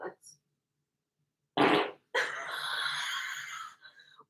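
A loud, raspy fart bursts out alone, followed after a short gap by a longer, sustained sputtering one lasting over a second, in a quiet indoor room.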